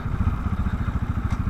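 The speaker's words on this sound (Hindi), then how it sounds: "तो बाइक को लगाते हैं इस साइड" A motorcycle engine idles with a steady low chugging pulse as the bike is parked at the roadside, close and fairly loud.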